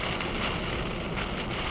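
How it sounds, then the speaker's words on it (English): Heavy rain driven almost horizontally by strong, gusty wind during a spring thunderstorm north of Port Perry, Ontario, roars as a dense, steady wash of noise with no breaks and no voices. "especially with the wind blowing the rain almost horizontally"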